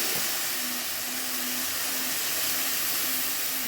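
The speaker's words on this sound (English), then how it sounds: "I'm going to add a little bit of stock" Stock poured into a hot pan of sautéed vegetables and tomato paste for a red lentil ragu sets off a steady, loud sizzling hiss that holds evenly throughout, with a faint underlying hum.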